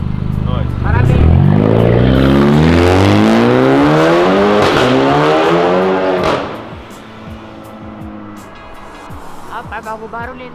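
Loud, close roaring of a Stage 3 drift car's engine, revving up and sweeping in pitch for several seconds, then dropping to a rougher idle with voices faintly around it.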